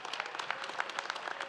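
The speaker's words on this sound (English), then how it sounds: "how about another warm round of applause for our retirees?" Applause for retirees at a Founders Day ceremony: a crowd claps steadily and faintly from a distance, with dense overlapping claps throughout.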